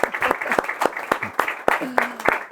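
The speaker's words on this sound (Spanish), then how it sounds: "un gran aplauso" A small group at a monthly business meeting gives a short burst of applause: a few distinct, irregular hand claps close by, mixed with people talking.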